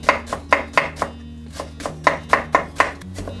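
A kitchen knife minces green onions on a cutting board in a quick run of about a dozen crisp, rhythmic chops, close and without voices.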